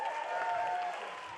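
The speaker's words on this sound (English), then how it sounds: "Give him a round of applause for that." An audience at a comedy roast gives a round of applause, a brief, moderately loud wash of clapping and crowd noise with a faint voice mixed in.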